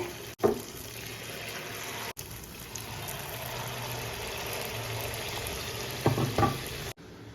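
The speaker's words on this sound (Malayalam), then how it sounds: "ഇനി അങ്ങനെ നമ്മൾ മുറിച്ച് വെച്ച എല്ലാ പഴവും ഞാനിതാ നമ്മുടെ ഈ കൂട്ടിൽ മുക്കിയിട്ട് എണ്ണയിൽ ഇടുന്നുണ്ട്" Battered banana slices for beer pazhampori sizzle steadily in hot oil, a continuous bright frying hiss with a couple of brief clatters and splashes as pieces drop in, no talking.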